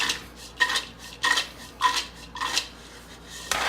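Pecans are tossed with olive oil, salt and pepper in a container, giving a series of clattering, scraping knocks at an uneven rhythm, close by, with no talking.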